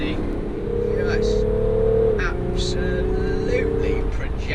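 A BMW X6 M50d pulls hard away from a junction, its engine note climbing steadily and dipping briefly at a gear change before rising again, close and loud beneath someone talking.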